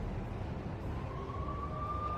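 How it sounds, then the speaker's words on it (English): Police sirens wail in the Max Payne video game, a faint rising tone in a slum tenement setting, steady and drawn out over dense low rumbling ambience. "I could hear the sirens. Their wail was a crescendo."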